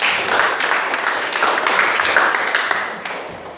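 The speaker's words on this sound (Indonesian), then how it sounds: "aplaus" A classroom breaks into applause: a dense, steady burst of many hands clapping, loud and close, lasting a few seconds and fading slightly at the end.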